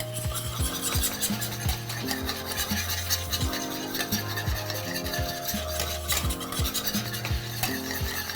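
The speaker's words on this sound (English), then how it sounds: "I'm gonna whisk it a little bit here." A whisk stirs shrimp alfredo sauce in a pan, scraping the bottom with a continuous close rasping and swishing that runs without a break over a steady low tonal backdrop.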